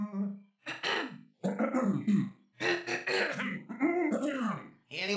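Cartoon characters in an animated series clear their throats and cough in a loud, continuous run of rasping, voiced hacks and throaty rumbles.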